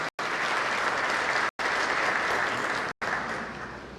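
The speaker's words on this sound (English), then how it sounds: "give a big round of applause to Dr. Savita and her team for excellent organization" Audience applause at a South Asian forestry conference in Dehradun, steady, full clapping from a large crowd that continues for several seconds through brief breaks and then tapers slightly.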